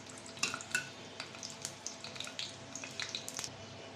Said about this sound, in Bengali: শুকনো মরিচটা ভেজে মশমশা করে ভেজে তারপরে আমি দেব।